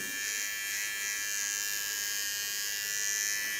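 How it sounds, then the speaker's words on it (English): Electric hair clipper held upside down, shaving the nape of a woman's neck with the blades flat on the skin; a steady, close buzzing hum runs without break and no one speaks. "hold my clipper upside down"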